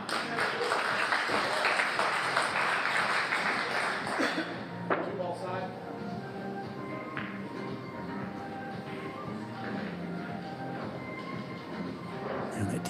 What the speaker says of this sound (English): That round of applause